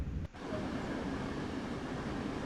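Exterior view of a Peninsular Corridor commuter train in Train Sim World, giving a steady, dense rail rumble after a brief dip at the start, with no speech.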